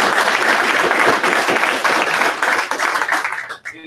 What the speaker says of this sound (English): everybody please give him a round of applause